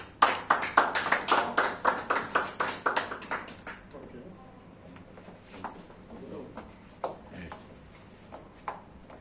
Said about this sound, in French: Nous demandons d'applaudir s'il vous plaît.